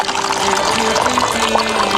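Coffee poured into a cup, a continuous liquid stream with rising pitch as the cup fills, close and fairly loud, lasting the whole two seconds.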